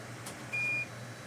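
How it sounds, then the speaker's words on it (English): A single short, clear electronic beep from an A1237 MacBook Air logic board under repair, heard alone against a quiet background. "Stop beeping."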